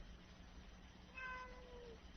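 A single faint cat meow, rising then trailing off, sounds in a quiet room over a steady low hum.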